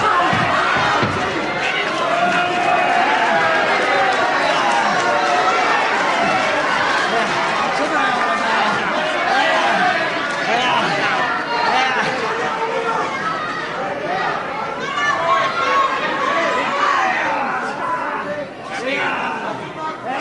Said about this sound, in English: The crowd really loved that.